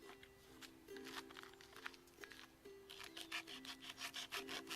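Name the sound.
sawing with a survival knife's serrated back spine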